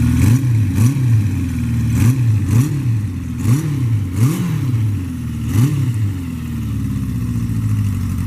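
A 1973 Honda CB350F motorcycle engine runs close by, with repeated throttle blips rising and falling over a steady idle, ending in a smoother even drone.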